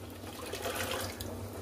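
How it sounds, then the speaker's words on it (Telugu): Water is poured into java flour in a home kitchen, a close, continuous splashing trickle that runs steadily and alone through the short moment. "నీళ్ళు తెల్లాక చూడండి నేను ఎలా పోస్తున్నానో."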